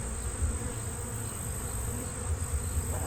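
Honey bees buzz densely around a yard of deep-box hives, a continuous close swarm drone with a steady high whine and no voices.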